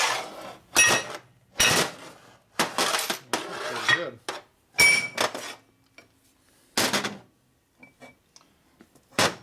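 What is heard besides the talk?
hammering metal part flat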